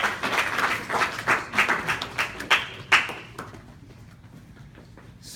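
A small audience at a surgical presentation on a supraorbital craniotomy gives a round of rhythmic clapping that swells, then fades out after a few seconds.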